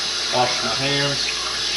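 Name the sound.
washing hands under a running tap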